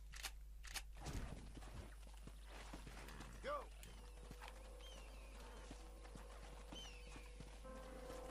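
Horse hooves clip-clopping at a walk in the Red Dead Redemption video game, with faint tack and mechanical clicks, a brief whinny-like call midway, and a low steady background hum.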